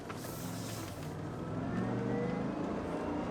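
A supercharged Cadillac Escalade SUV cruising under normal driving, its engine and supercharger producing a steady, moderately loud drone with road rumble that swells slightly toward the end.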